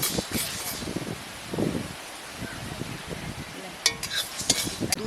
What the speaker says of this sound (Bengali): 2 চামচ হলুদ সর্ষে একের সঙ্গে ভালো করে নেড়ে নেব।